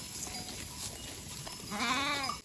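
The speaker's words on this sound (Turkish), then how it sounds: "Minnak kuzular gelmiş mi bakalım?" Sheep with week-old lambs graze in an outdoor pasture; a single near, wavering bleat rises near the end over steady open-air background noise.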